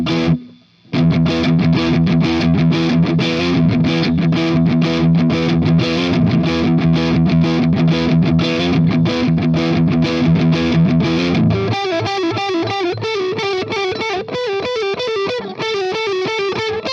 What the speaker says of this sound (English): Again, metal tones, neck and middle.